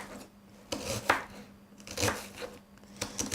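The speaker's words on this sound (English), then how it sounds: "the smaller chops that you do, the finer the pieces of onion will be" A knife chops an onion on a board during home cooking, several close, sharp cuts landing in an irregular rhythm with short pauses between strokes, with no talking.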